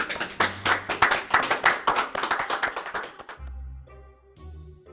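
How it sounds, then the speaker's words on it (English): Applause from a small group during a book-themed talk show segment, brisk clapping for about three seconds that then fades into quiet background with a low hum. "Applause."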